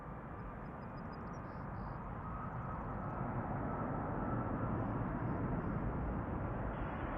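An Air Canada airliner takes off from runway 06 left at Toronto Pearson, its engines a steady, broad roar that grows slightly louder as it rolls.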